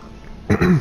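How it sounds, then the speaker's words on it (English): A short, close throat clearing, two quick rough bursts after a moment of quiet room tone. "don't try to clear your throat like he was awake"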